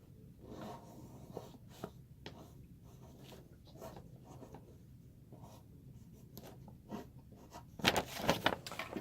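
A pen draws a simple diagram on paper, giving soft scratchy strokes in short bursts that are quiet and close, with a louder flurry of quick scribbling near the end.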